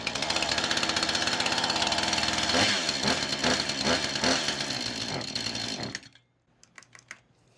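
A chainsaw with a newly replaced HIPA carburetor catches on primer fuel and runs loud and close with a rough, buzzing idle for about six seconds, then abruptly cuts out, leaving a few faint clicks.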